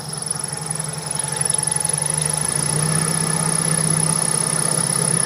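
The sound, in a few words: Toyota Corolla Twincam engine idling roughly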